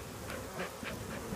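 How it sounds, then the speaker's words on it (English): Honeybees crawl over comb and brood inside a split dead tree log, a steady close buzzing hum with soft pulsing swells and no voices. "bees crawling all over"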